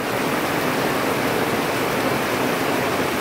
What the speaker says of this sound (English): Look at the water just frothing over here.